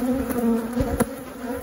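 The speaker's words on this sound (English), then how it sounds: "let's look at the box of bees" Honeybees buzzing in an open hive box, a dense steady drone close to the mic with a few soft knocks and handling sounds.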